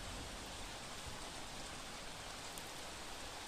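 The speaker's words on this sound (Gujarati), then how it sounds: "સતત વરસાદ દક્ષિણ ગુજરાતમાં છે" Continuous rain falls over flood-hit South Gujarat near Vapi, a soft, even wash of noise heard at some distance and fairly faint throughout.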